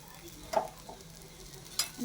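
Pumpkin thalipeeth frying in oil on a pan gives a faint, steady low sizzle, with two brief louder clinks or scrapes standing out against the quiet background.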